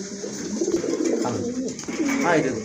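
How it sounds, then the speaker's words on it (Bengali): Pigeons coo in low, rolling calls close by, several overlapping, with a voice speaking over them. "ডাকে ভাই হিউজ পরিমাণ ডাকা ডাকে কবুতরগুলা"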